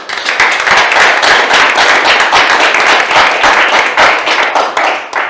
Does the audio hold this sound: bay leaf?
no